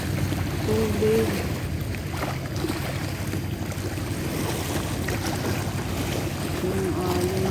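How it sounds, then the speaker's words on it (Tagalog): Ocean waves wash steadily against the shore at Labrador Park, a continuous broad rush of water mixed with blustery wind buffeting the microphone, holding at an even level throughout. "Yung alon."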